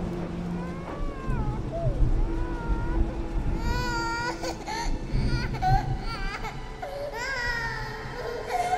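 An infant cries in the video game Age of Darkness: Final Stand, with repeated wavering wails and sobs that rise and fall over a low rumbling background.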